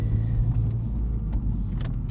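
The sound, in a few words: 2019 Honda Civic Type R driving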